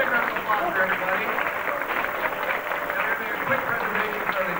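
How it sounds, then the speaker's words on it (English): A crowd applauds at an anime convention, producing steady, dense clapping that carries through the whole stretch, with voices mixed into the noise. "round of applause for everybody"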